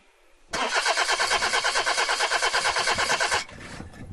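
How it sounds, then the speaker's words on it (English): A car starter whirs and cranks in a rapid pulsing rhythm for about three seconds, the engine never catching, then cuts off. "Car won't start?"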